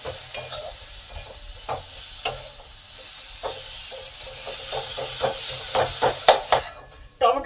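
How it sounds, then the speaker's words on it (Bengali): Masala being stir-fried in a pan with tomato added, a steady hiss of sizzling oil broken by repeated scraping and stirring strokes of a spatula, close and fairly loud, with no voices. "ভালো করে কষে নেব।"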